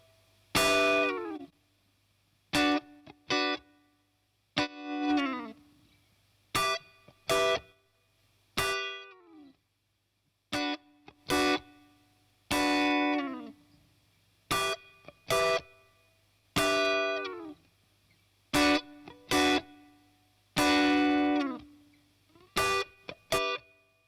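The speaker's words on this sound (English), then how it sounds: "So you can hear that brings in distortion as well." Gritty, distorted instrument notes from a Neve 1084 preamp plugin play in short separate bursts, each one a buzzy harmonic-rich tone, with gaps of silence between them.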